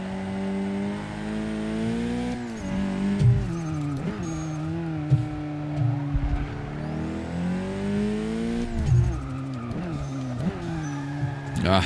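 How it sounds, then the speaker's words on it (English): A car in a hatchback track battle between a Volkswagen R and an Audi RS3 brakes hard, its tires squealing and skidding in long wavering howls over the revving engine, loud and close. "I'm smashing the brakes down because I feel like it's not gonna brake"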